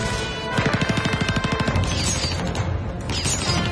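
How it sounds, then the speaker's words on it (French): Rapid automatic gunfire in an exchange around an apartment building during a police raid, a dense burst of regular shots followed by continued crashing and firing, loud and close. "Ils se sont échangés des milliers de coups de feu"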